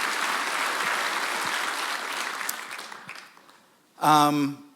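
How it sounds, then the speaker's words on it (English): Audience at a recovery house fundraiser applauding steadily for about three seconds, the clapping thinning out before a voice begins speaking. "We can do some more applause for sure."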